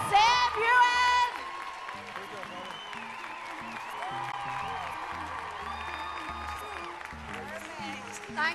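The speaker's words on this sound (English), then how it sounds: "give one more huge round of applause for Caitriona Balfe and Sam Heughan" Convention audience applause and cheering for guests on stage, a crowd clapping in the background beneath a presenter's amplified voice and some whoops.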